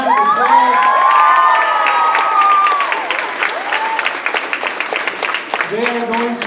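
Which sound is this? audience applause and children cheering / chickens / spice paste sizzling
audience applause and children cheering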